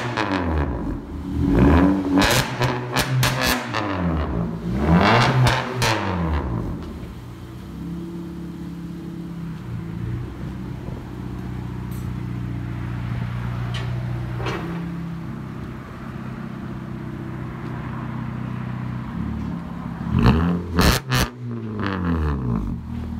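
A 2014 Honda Accord with straight-piped exhaust, stock catalytic converters kept, revs repeatedly nearby, each loud rise and fall of engine pitch followed by a steady idle, then another pair of sharp revs near the end.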